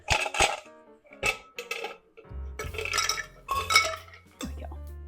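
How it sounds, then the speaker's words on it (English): Ice clinking and rattling into a glass while an Old Fashioned cocktail made with Wild Turkey bourbon is prepared: several close, sharp clinks in bursts, ending with a heavier thud of cubes settling. "Now we will add ice so that we can stir this."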